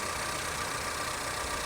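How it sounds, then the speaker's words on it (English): A Chevrolet C8 Corvette engine runs at idle, a steady, fairly loud hum and hiss with no break. "the engine sounds like it's running fine"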